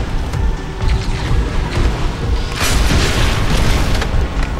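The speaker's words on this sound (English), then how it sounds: "That thing got blown up." Loud explosion in the video game Crysis 3 blowing something up, a sustained booming roar with dense rumbling debris that swells midway and continues steadily without speech.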